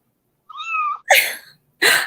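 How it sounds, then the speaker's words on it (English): A kitten gives one clear, close meow, then two short breathy bursts that sound like tiny sneezes, each set apart by a brief silence. "I heard a kitty."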